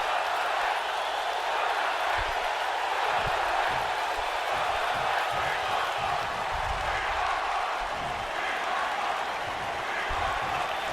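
A video-game wrestling crowd in WWE 2K19 roars as a steady, dense arena wash, with scattered clapping and cheers beneath a commentator's voice.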